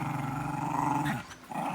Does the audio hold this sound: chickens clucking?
no